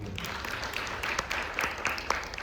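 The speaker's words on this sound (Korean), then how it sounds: "주영석 교수님을 박수로 환영해 주시기 바랍니다" A forum audience claps to welcome a speaker, a short burst of scattered applause of moderate loudness, thin and uneven, with faint voices underneath.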